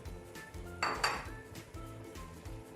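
Frozen okra is dropped into a cooking pot for an okra stew with meat and chickpeas, a short clatter of pieces and a light metallic clink rising briefly over faint kitchen background, close and without talk.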